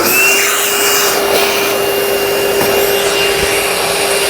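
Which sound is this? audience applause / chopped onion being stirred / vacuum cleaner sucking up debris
vacuum cleaner sucking up debris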